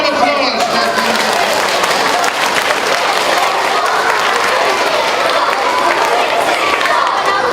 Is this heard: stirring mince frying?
no